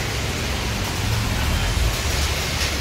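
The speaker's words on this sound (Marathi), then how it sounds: "पाऊस आहे एवढा" Heavy rain pours outside a shop during a shopping trip, a dense, steady hiss that stays loud and even throughout with a deep rumbling layer underneath.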